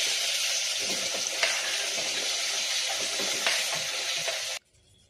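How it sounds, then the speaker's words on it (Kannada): Chopped tomatoes frying in hot oil with mustard seeds, cumin, curry leaves and crushed garlic for tomato chutney, a loud, steady sizzle with a few bursts of spatter that cuts off abruptly near the end. "ಟೊಮ್ಯಾಟೊ ಚೆಂದಾಗಿ ಎಣ್ಣೆ ಒಳಗೆ ಫ್ರೈ ಆಗಬೇಕು"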